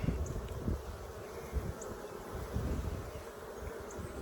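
Honeybees buzz in a dense, continuous drone around an open hive during an inspection, with occasional individual bees zipping close past and faint handling noises, no voices.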